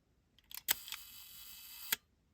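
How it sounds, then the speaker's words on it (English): A Kodak Retina 1a camera shutter set to one second clicks open, holds through a faint steady hum, then snaps shut with a second sharp click. Both clicks are close and clear. "if I move it down to 1 second here, that shutter will stay open for a second"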